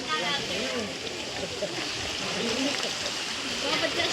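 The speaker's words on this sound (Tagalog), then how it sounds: "Batis ito eh." Stream water in a cool brook at Capuy flows and splashes steadily at close range, a continuous broadband rush with small splashes, while people talk over it.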